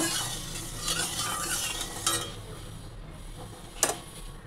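Fish and vegetables fry in oil with turmeric for a Bengali fish curry, a close sizzle under busy stirring and scraping of a spatula in the pan, ending with a sharp metallic clink.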